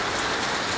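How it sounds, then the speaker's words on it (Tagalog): Heavy typhoon rain in the Philippines pours down in a dense, unbroken roar, loud and close, with no voices over it. "Grabe, napakalakas ang ulan."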